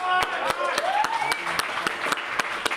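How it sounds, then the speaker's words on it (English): An audience at a Libertarian Party event claps in a brief, scattered patter of individual hand claps, moderately loud and steady throughout. "Let's give him a round of applause."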